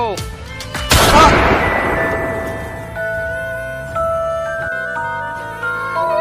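One loud, sharp gunshot cracks out in a comedy skit, followed by a long ringing decay with tonal hums, then quieter background sounds, with no talk.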